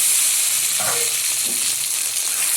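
Catla fish roe fries in hot oil with turmeric powder, a loud, steady close-up sizzle and hiss with a couple of brief bubbling pops, no talking.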